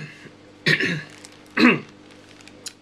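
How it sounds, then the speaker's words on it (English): Two throaty clearing sounds, close and fairly loud, the second a bit stronger, followed by a short faint tail of breath. "excuse me, clear my throat"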